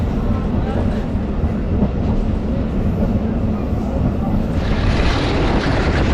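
A passenger train rumbles steadily along the rails between Kot Adu and Multan, a dense low clatter throughout with a brighter hiss swelling near the end.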